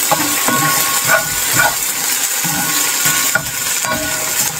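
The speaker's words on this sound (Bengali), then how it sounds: "সেজন্য ঢেঁড়স ভাজি করতেছি" Okra frying in a pan late at night, a steady hissing sizzle with intermittent clinks and faint bumps, fairly loud and close with no talking.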